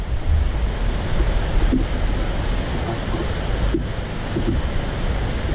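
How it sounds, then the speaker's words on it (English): Strong wind roars steadily across the microphone outdoors while fishing for longnose gar. It is loud, continuous and buffeting, and no voices are heard. "The wind's kind of taking off a little bit too."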